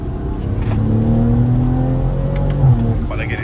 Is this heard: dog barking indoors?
no